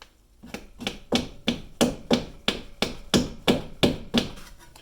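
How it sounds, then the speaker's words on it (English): A flathead screwdriver is tapped about a dozen times in a steady rhythm to loosen the front main seal on a Saab B234/B235 engine, each strike a sharp, close metallic knock, with no talk over it. "get in here with a flathead screwdriver like this and give him a little tap"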